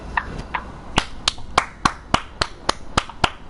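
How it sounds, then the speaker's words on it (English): A dozen or so sharp, separate claps in a loose rhythm, close and crisp, like one or two people clapping rather than a crowd, at a GTA 5 air show. "So please round of applause for Vulcan."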